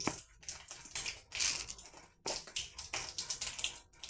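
Chana dal dropped into hot oil where mustard seeds have already popped, for an egg semiya biryani, giving a close, busy crackle and sizzle with sharp spitting pops that swell and dip.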